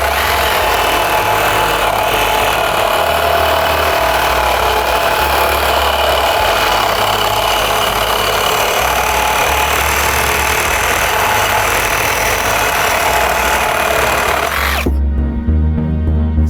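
A Milwaukee Sawzall reciprocating saw with an 18 teeth-per-inch blade cuts thick 4mm steel box section, a loud, continuous rasping drone that runs for about fifteen seconds and then stops abruptly.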